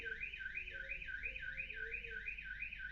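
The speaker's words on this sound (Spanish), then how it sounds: "Denme 2 segundos a ver qué pasa con la alarma" A car alarm wails in a steady, repeating rising-and-falling siren pattern, faint and distant, heard during an online class with no talking over it.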